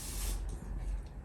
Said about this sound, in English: Screws, you can see that they're all oily, greasy. Give them a spray down.